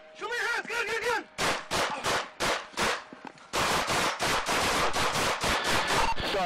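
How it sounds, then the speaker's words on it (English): A rapid, loud volley of many gunshots fired by police officers during a confrontation, close and continuous, with shouting voices at the start. "Shots fired."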